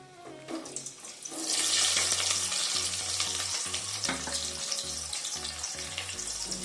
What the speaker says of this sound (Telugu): ఆనియన్ బ్రౌన్ కలర్ వచ్చే వరకు మనము బాగా ఫ్రై చేయాలండి